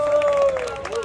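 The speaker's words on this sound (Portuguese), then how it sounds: "Palmas pra essa batalha." Crowd clapping at an outdoor rap battle in Foz do Iguaçu, a brief dense patter of hands under a loud voice talking over it.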